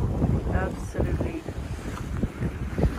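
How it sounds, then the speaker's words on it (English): A single-handed sailboat sails southeast with the engine off, toward Cabo San Lucas. Wind buffets the microphone and water rushes along the hull in a loud, continuous wash. "we're actually sailing at last with the engine off"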